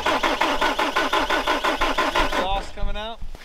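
A frozen skid loader's diesel engine cranks over repeatedly on a jumper pack in a steady, fast rhythm, then stops as a high whining, warbling tone rises and falls.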